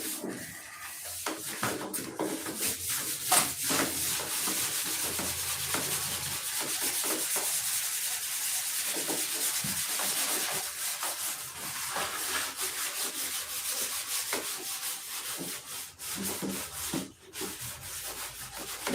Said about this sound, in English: get my 36 grit out and 80 grit and get my 8-inch DA